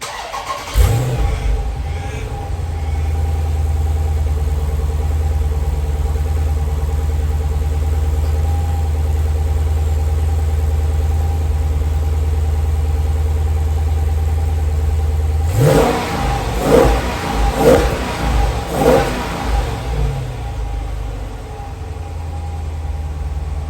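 A car sits idling, then its engine is revved in several sharp bursts near the end over a steady low hum, with no talking.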